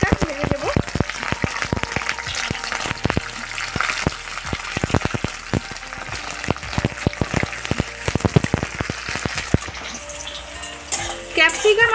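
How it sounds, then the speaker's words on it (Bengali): Capsicum and onion fry in hot mustard oil for a soyabean dopiyaja, a steady close sizzle broken by frequent sharp clinks and scrapes of a spatula against the pan, with a brief burst of clatter near the end. "এবার আমি ক্যাপসিকাম আর পেঁয়াজটা ভেজে দেব"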